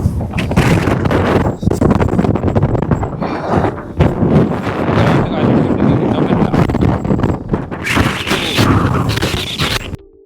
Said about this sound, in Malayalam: മറ്റേ ഭയങ്കര കാറ്റാണ് ഭയങ്കര കാറ്റ് ഭയങ്കര തണുപ്പ്